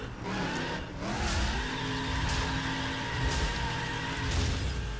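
A manual Dodge Charger held in second gear in The Crew video game, its engine droning loudly and steadily at high revs while the tires screech through a long drift.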